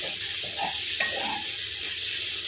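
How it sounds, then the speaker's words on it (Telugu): Ridge gourd and meal maker curry fries in a pan with a steady close sizzle, broken by a few soft stirring scrapes. "ఇప్పుడు చూసారా ఫ్రెండ్స్ చక్కగా ఫ్రై అయ్యింది"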